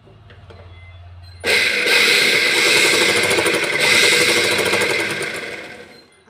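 A domestic sewing machine runs steadily for about five seconds, stitching tucks in a blouse, loud and close, with a faint hum before it starts and a brief drop partway through.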